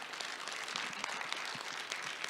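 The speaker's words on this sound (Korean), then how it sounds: "다시 한번 아주 훌륭한 강연 해주신 우리 한영석 사장님과 이영철 회장님께 큰 박수로 감사의 표시를 하겠습니다." Audience at a Korean naval architecture society academic conference applauding after a special lecture: dense, even clapping from a seated crowd, moderately loud and sustained throughout with no talk over it.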